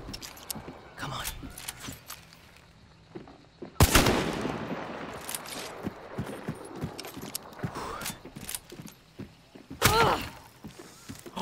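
Hunt: Showdown gunfight: sharp gunshots crack at intervals, two louder nearby blasts standing out, amid softer distant shots and footstep clatter while a player talks.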